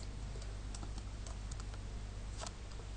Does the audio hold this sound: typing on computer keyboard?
yes